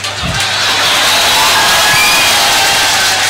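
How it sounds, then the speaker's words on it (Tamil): Loud, dense audience applause mixed with cheering and whoops from a crowd at a speech event, sustained throughout. "இந்த கைத்தட்டே உனக்கு பதில்டா தம்பி, இந்த கைத்தட்டே உனக்கு பதில்."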